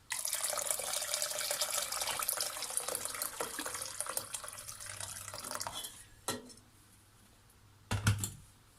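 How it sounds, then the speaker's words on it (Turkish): Hot water poured into a stirred flour mixture for a Turkish milky zucchini soup, a steady splashing pour for several seconds that tapers off, followed by a couple of brief clunks. "Şimdi üzerine suyunu ekliyorum. Suyumuz sıcak olacak."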